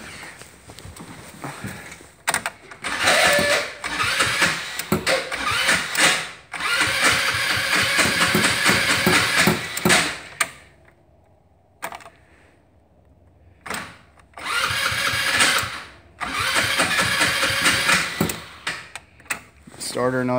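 A cold go-kart engine is cranked by its starter motor in repeated whirring, grinding bursts of several seconds each, broken by pauses and a few quiet gaps, with a person talking in between.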